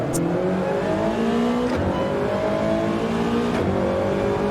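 Race cars in Gran Turismo 7 accelerate off the start at Deep Forest Raceway in a Toyota Trophy league race, engines revving loudly and rising in pitch through gear changes, a close, continuous roar with no talk.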